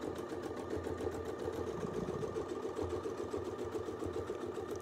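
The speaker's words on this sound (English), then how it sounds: "We'll double stitch on the top for this one." A domestic sewing machine stitches an edge-to-edge pattern across a quilt, running as a steady rapid mechanical whir and chatter close by, unbroken for the whole stretch with no talking.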